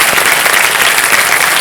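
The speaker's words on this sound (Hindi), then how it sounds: "एक बार फिर आपका बहुत बहुत स्वागत करते हैं तालियों के साथ हमारे कार्यक्रम में" The studio audience of the Kaun Banega Crorepati quiz show claps loudly and continuously, a dense, even wash of applause throughout.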